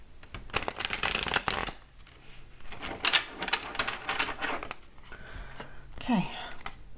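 Someone shuffles a deck of stiff playing cards close by, with crisp riffling bursts separated by short pauses and a voice faintly present in places.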